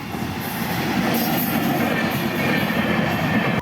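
A train rolls past a level crossing in Bangladesh, a loud, steady rumble of railcars and wheels on track that holds throughout, close by and continuous with faint high squealing on top.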